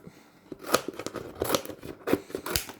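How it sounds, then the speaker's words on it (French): Scissors snipping through cards from a Pokémon advent calendar, several crisp close cuts with light paper rustling between them. "je vais reprendre mon ciseau là"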